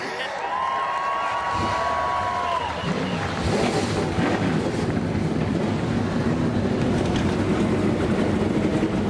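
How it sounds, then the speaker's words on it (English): In the NASCAR Racing 2003 video game, a field of truck engines fires up on the starting grid at Pikes Peak. A thin whine gives way to a dense, sustained roar that fills the rest of the clip. "Driver, start your engines!"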